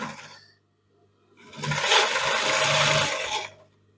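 A Brother LZ2-854-3 zigzag sewing machine runs a wide zigzag stitch, a brief start and then a steady, close, whirring burst of about two seconds before it stops.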